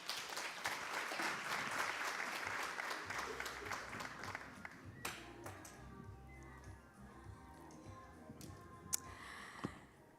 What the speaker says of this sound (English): Give him a round of applause once again there